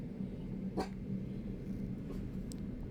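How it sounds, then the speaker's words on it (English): A dog barks once in Dragon Age The Veilguard, a single sharp yelp rising briefly over a steady low game ambience, with a couple of faint higher chirps trailing after. "Apologies for the barking, people."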